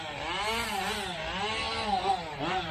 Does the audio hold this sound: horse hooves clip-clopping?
no